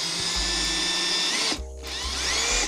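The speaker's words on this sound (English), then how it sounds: "I'm just gonna get the screw in" A power drill drives a screw into a Genesis Coupe street aero diffuser, with a loud close whine in two bursts separated by a brief pause.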